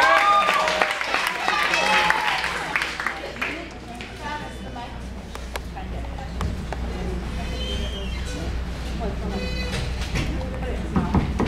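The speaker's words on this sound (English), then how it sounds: "So give him a big round of applause." Audience applause at a live charity song performance, a dense, steady clatter of many hands filling the whole stretch, with scattered whoops and voices in the crowd and no clear break.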